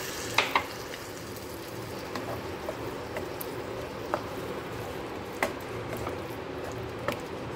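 Karela sabzi with water just added hisses in a frying pan. A steady close sizzle runs throughout, broken by occasional sharp clicks and scrapes of stirring.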